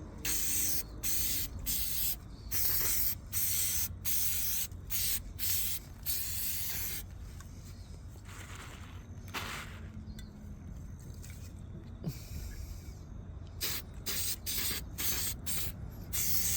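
K&N filter oil sprayed onto the air filter of a Mercedes-Benz C200 Kompressor, in repeated short close hissing bursts separated by brief gaps and a longer quieter stretch in the middle, with no talk.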